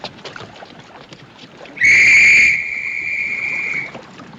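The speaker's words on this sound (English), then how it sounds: "That's an officer's whistle." An officer's whistle on a boat in a 1958 black-and-white film gives one loud, shrill, steady blast of about two seconds, starting sharply, then easing slightly as it holds, over a low background murmur.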